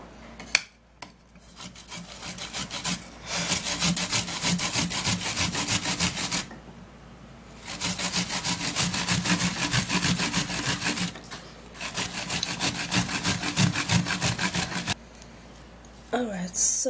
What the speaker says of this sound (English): Grate the tomato.